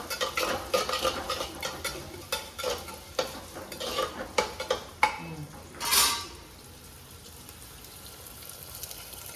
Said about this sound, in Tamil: பூண்டு அவ்வளோதாங்க ஒரு நிமிஷம் நல்லா வதக்கிடலாம்